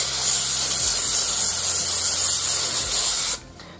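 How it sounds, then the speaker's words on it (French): A can of pastel fixative sprays over a drawing, giving one loud, close, continuous hiss for over three seconds before stopping abruptly. "je vais fixer les couleurs avec mon spray"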